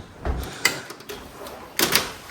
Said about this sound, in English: Just got to make sure that I close these mosquito doors.